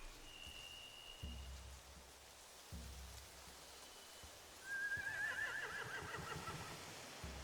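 Horses neigh and whinny in a survival video game scene beside hay and a boat, with rain pattering steadily, occasional hoof clops, and a distinct whinny rising late over the background.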